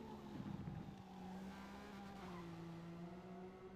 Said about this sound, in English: This is literally music, just listening to this car run down this track.